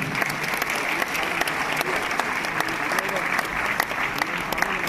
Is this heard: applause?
yes